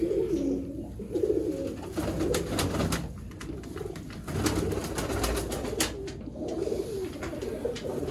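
Sialkoti pigeons cooing close by, repeated throaty rolling coos over a busy backdrop of wing flutters and sharp clicks, with no talking.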